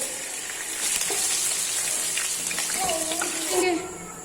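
Garlic cloves drop into hot oil in a wok and set off a steady, loud sizzle that hisses on for several seconds, swelling near the end, with no talking.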